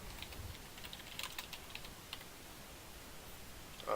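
Quick bursts of keystrokes on a computer keyboard, light close clicking in irregular clusters with brief pauses, and a louder thump at the very end.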